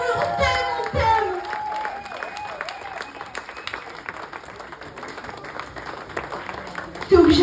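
An audience applauds and claps at a France Coquine 2022 show at Glamour Beach, a lively burst of clapping that tapers off under a speaking voice, then swells again at the end.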